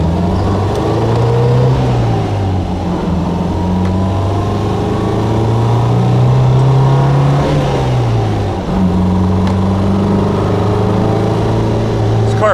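A 1962 MG A 1600 MKII Roadster on the road, its engine droning loud and close as it accelerates, pitch climbing and dipping through gear changes over a steady rumble of road noise.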